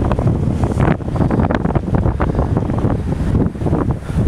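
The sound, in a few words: strong cold wind at Anglesea, Australia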